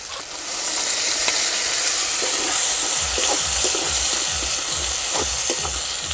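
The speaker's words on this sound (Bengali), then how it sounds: "তারপর যে মশলাটা পেস্ট করেছিলাম সেটা এবার দিয়ে দেবো" Spice paste sizzles loudly in an oil-filled pan for a jackfruit and prawn curry, a steady broad hiss running throughout with a cluster of scraping stirs and light utensil knocks in the second half.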